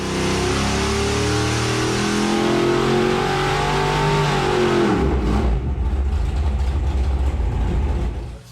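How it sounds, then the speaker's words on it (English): A 760 hp dyno-tested Mopar 512 stroker V8 revs loud and close, holding a high, rising note for several seconds before the throttle snaps shut and the engine drops abruptly to a lower, rougher idle. "we have our infamous 760 horsepower, dyno tested, dyno proven, 512 stroker."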